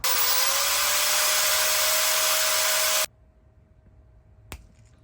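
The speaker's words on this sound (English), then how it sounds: "I know I got a little bit too happy with the angle grinder" An angle grinder cuts metal while installing an SPA intake manifold and fuel rail on a boosted 2.5 five-cylinder Jetta, making a loud, steady high-pitched whine for about three seconds before stopping abruptly, followed by a brief sharp click.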